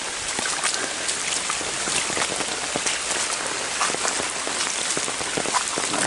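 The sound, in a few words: rain falling in the woods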